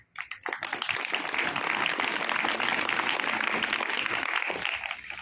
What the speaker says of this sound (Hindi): अभी ज्यादा तालियां बजनी चाहिए।